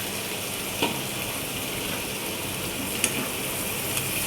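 Carrot fry sizzles steadily in a hot pan as pepper powder is stirred in, a soft continuous hiss with a few faint clicks of a spoon against the pan.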